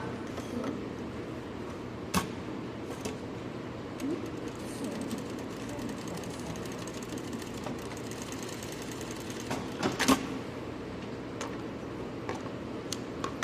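An industrial sewing machine runs fast in a steady, fairly faint mechanical whir with occasional sharp clicks and taps.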